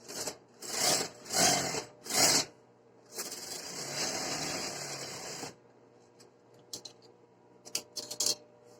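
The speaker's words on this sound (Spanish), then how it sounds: "Pasamos una costura por el otro orillo." A sewing machine stitches a seam along the fabric edge of a woman's trousers in short bursts, then in one steady, longer run, close and loud, followed by small clicks and handling noises.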